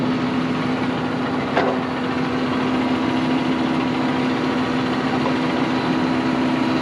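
Steady tractor engine idling nearby with a constant hum while a hydraulic mower arm is lowered, one brief click partway through and no talking.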